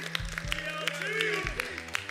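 An audience applauds at a Summoners War esports championship event, the clapping rather faint and mixed under a voice and tonal background sound.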